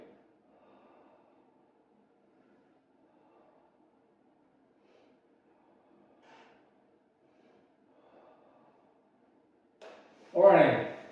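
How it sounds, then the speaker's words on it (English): A long, forceful exhale closes out a stretching breathing exercise, loud and close after a stretch of faint murmured voice and quiet breaths. "with long exhale."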